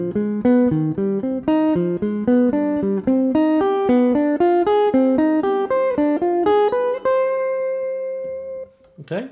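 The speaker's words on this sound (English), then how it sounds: "So if we break these chords up into arpeggios, we get something that sounds like this." Broken chords in a minor key ripple as a fast, even run of plucked keyboard-like notes climbing and falling, about two dozen in a row, ending on a held note that fades; loud and alone.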